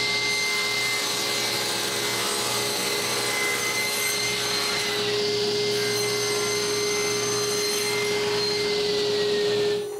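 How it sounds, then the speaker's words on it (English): A CNC machine making a roughing pass on a block of basswood, with a steady close whine from the spindle and a continuous rubbing, rasping cut under it that holds for the full stretch. "I put it on the CNC chuck and it's a go for the roughing pass"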